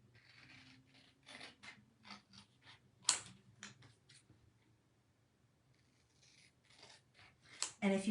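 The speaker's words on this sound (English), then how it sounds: "so that's why I'm cutting it" Scissors cut through sticker paper in a run of short crisp snips and rustles, a quiet pause in the middle before more snipping, close and fairly soft.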